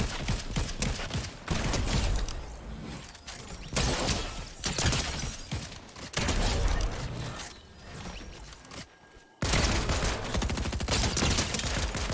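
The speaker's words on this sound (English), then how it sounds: "is this man in a tree shooting at me or something?" Gunfire in the Fortnite video game, with bursts of rapid shots and sharp cracks in several clusters over about twelve seconds, separated by brief quieter gaps, loud and close with no talk.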